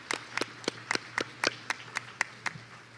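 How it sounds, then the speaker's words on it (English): Clapping during a shareholders' annual meeting: about a dozen sharp, evenly spaced claps, fairly faint and distant, sounding like one or a few people rather than a full crowd. "let's give them a round of applause"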